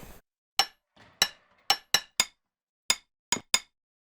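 A hammer striking while roof tiles are laid, working from the bottom up: about eight sharp, close knocks at an uneven pace, with short quiet gaps between them and no talking.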